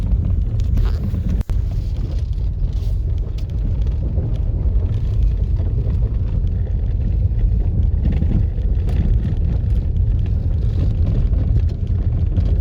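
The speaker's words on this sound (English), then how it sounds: "Here I was driving on my way back." A car drives along a dusty gravel road back from Wairau Bar near Blenheim, New Zealand, with a loud, steady rumble of engine and road noise mixed with buffeting wind for the whole stretch.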